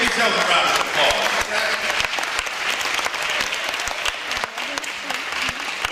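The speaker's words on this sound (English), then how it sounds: "Give yourselves a round of applause." Audience applause at an Alpha Kappa Alpha sorority debate event, loud sustained clapping from a crowd filling the room for the full stretch, with some voices faintly mixed in.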